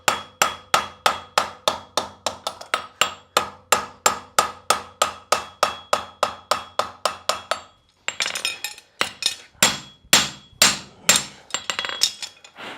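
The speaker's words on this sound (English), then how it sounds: "When I flat the branch, it's very important to keep the wedge on the edge of the anvil." A farrier hammers a horseshoe branch flat on an anvil, ringing metallic blows struck in a steady, even rhythm close by, with a brief pause and then a quicker, more irregular run of strikes.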